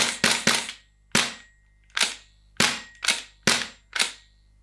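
A Double Eagle Noveske N4 airsoft gas blowback rifle fires about nine sharp, snappy shots, a quick cluster of three followed by single shots at a steady pace, loud and close with no talking.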